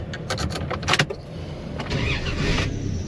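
A Dodge Dakota's starter cranks in a few quick bursts before the engine catches and settles into a steady close idle rumble.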